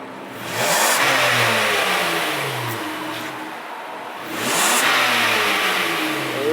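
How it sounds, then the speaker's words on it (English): A car engine after an HHO hydrogen carbon clean runs close by, rising in two revving surges that each ease back toward a steadier idle, with no one speaking. "And now we let it idle for about another 5-10 minutes."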